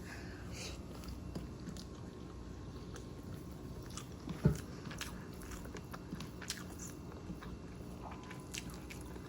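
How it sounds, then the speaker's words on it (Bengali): Someone eats fried broccoli up close, with soft repeated chewing and quiet crunchy bites, one sharper bite standing out midway against faint background hiss. "এই যে ব্রকুলি ভাজিটা দিয়ে আমি খাচ্ছি আমার সব থেকে প্রিয় সবজি ব্রোকলি ভাজি"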